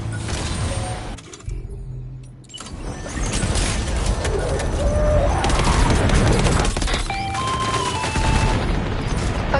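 Loud, dense bursts of gunfire crackle in rapid, overlapping volleys for most of the stretch after a brief lull near the start, with engine-like rumble mixed in.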